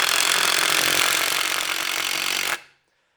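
DeWalt impact driver running steadily while driving a screw, a loud, continuous buzzing whir that stops abruptly near the end and leaves silence.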